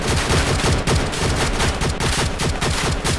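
Rapid automatic gunfire fires in loud, continuous bursts in the cyberpunk first-person shooter video game Infinity OPS, the shots close and dense with brief gaps and no talk.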